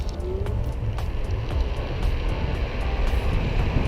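A Kaabo Urban electric scooter rides at full throttle, giving a steady loud rush of wind and road noise with a low rumbling roar throughout and faint clicks over the top.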